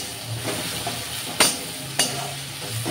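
Tomatoes and onions fry in a pan, a low steady sizzle broken by two sharp scraping stirs a moment apart, with no talking.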